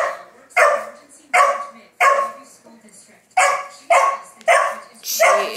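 A golden retriever barks in a series of seven sharp, loud, evenly spaced barks, close by, with a few softer whines between them.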